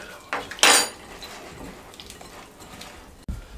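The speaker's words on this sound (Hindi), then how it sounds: "अच्छे तरीके से साफ करके इसको सबको मिक्स कर लें।" A chicken marinade with chilli sauce is stirred in a bowl, giving a loud clatter of utensil against the bowl near the start, then softer scraping and mixing, with a short knock at the end.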